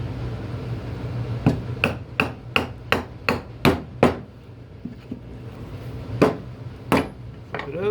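Sharp mallet strikes on a chisel cutting a through mortise in wood for a patio chair: a run of about eight evenly paced, close, loud knocks, then two more spaced blows after a pause, over a low steady background hum.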